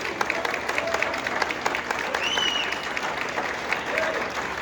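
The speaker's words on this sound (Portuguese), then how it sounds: "Bate palma para Jesus." Church congregation applauding at an Easter service, a steady wash of clapping from many hands with faint bird-like chirps and murmured voices above it.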